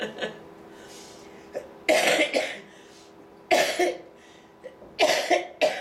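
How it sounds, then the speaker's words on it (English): Several soft coughs come in small clusters, fairly close, with quiet gaps between them. "Sorry about this cough."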